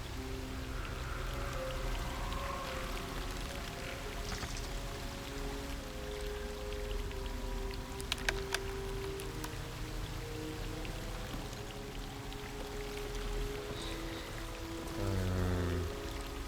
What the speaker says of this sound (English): There's a waterfall either way.